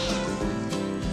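A kitten gives a single short, clear meow that rises and wavers over about a second, close and alone.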